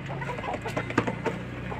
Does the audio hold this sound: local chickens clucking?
yes